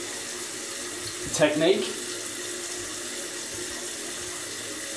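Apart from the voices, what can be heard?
water running from a tap while rinsing off alum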